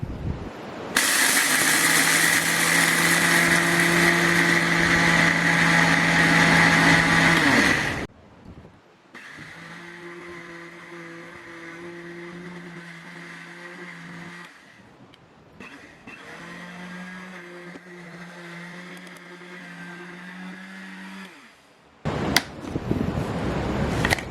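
Kitchen blender grinding ingredients for fish bait paste, a loud high motor whir in bursts, first strong then lower-pitched and muffled as the mix thickens, with brief pauses between runs and a short final burst.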